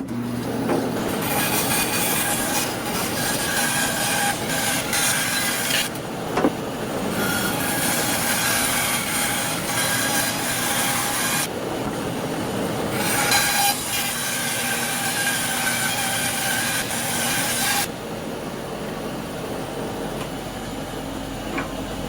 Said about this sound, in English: Got my 1/2 inch blade, which is about the max I could do on this little bandsaw